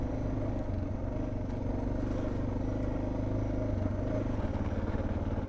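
Motorcycle engine drones steadily as the bike rides along a rocky river route in the Sierra Madre of Sonora, Mexico, a low continuous rumble close by with faint clatter underneath.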